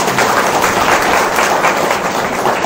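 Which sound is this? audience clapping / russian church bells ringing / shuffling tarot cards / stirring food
audience clapping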